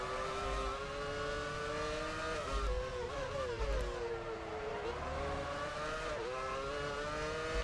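A Formula One car accelerates hard in the F1 Championship Edition racing game, its high-pitched engine whine rising and dipping through gear changes, loud and continuous with no talk.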